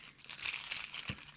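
A small plastic bag crinkles while an eyepiece is unpacked, a quiet, close run of crisp rustling with a soft thump near the end.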